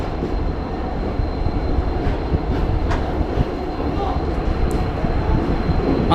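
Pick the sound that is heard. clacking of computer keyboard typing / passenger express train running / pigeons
passenger express train running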